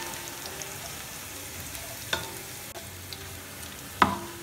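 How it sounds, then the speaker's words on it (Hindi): Garlic, whole garam masala and cumin fry in hot oil for moong dal khichri, a steady soft sizzle throughout with a couple of brief sharp clinks of a spoon against the pan. "अब इसको भी थोड़ा सा फ्राई करूंगी।"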